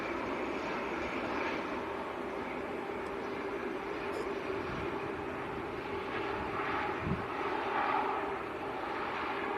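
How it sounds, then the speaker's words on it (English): A Loganair ATR turboprop, arrived from Newquay in Cornwall, at Manchester airport produces a steady broadband engine roar that holds at a constant level, moderately distant, with no talk. "Little Logan Air ATR. And that has come up from Newquay in Cornwall."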